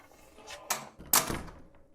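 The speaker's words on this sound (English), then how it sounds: "then Lucy closed the heavy front door" A heavy front door swings shut, two thuds about half a second apart, the second louder and sharper as it latches, with a short wooden rattle after it, close by and without speech.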